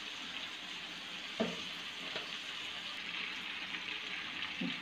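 Chicken pieces frying in a pan with Kashmiri chili powder, a steady quiet sizzle with a few soft knocks and stirring clatters.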